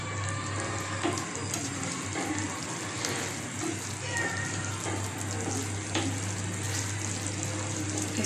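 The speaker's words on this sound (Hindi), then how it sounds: "इसे भूनेंगे एक दो मिनट बस," Arvi masala sabzi roasting over raised heat in a pan gives a steady, close hiss and crackle of frying that runs evenly throughout, with no talk.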